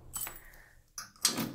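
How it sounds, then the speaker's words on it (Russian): A bunch of keys jangles close by for a 1960 GAZ-21, giving a few quick metallic clinks and rattles in brief bursts. "А, так, это у нас не тот ключик."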